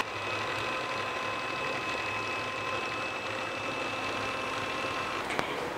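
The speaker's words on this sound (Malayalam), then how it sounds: "അപ്പോൾ 1 എഗ്ഗ് ആദ്യം ബീറ്റ് ചെയ്യാം." An egg being beaten for carrot cake batter gives a faint, steady whirring hum that runs evenly throughout, ending with a small clatter near the close.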